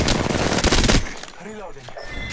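A quick burst of automatic gunfire in the shooter game Apex Legends cracks loudly for about a second, then drops away to quieter game sounds and a brief voice.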